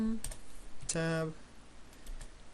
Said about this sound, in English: my keyboard is busted